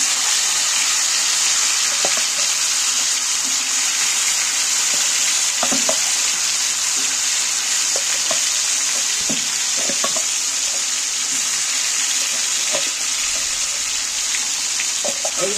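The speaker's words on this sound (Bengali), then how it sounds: "মাংসটা আমি এই গরম তেলের মধ্যে তুলে দিচ্ছি।" Chicken pieces for biryani fry in hot oil with bay leaf, a loud, continuous close sizzle punctuated by scattered clinks and scrapes of stirring throughout.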